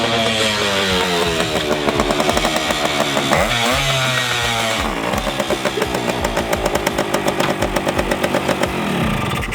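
A 1972 CT1 motorcycle engine runs loud and close with a rapid buzzing two-stroke rattle, revving up and down in rising and falling sweeps before settling into a steady pulsing throttle.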